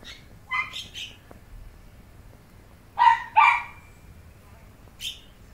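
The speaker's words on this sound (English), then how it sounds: "That's the neighbor's dog." A neighbour's dog barks from a short distance in an irregular series. Two pairs of quick barks are followed by two strong barks close together and a lone bark at the end.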